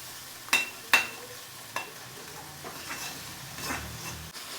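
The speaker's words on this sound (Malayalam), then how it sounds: "നമുക്ക് ഇഞ്ചി വെളുത്തുള്ളി ചതച്ചത് ഒന്ന് ശരിക്കൊന്ന് മൂത്ത് വന്നു" Crushed ginger and garlic frying in a pan for a fish head curry, giving a faint, steady sizzle with a few sharp stirring clicks near the start and no talking.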